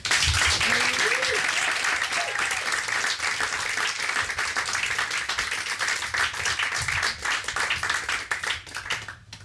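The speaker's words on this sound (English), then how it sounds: "So a nice round of applause" An audience at a live Exploding Cinema screening night in Margate claps after a film, a dense, loud round of applause that runs the full length and thins slightly toward the end.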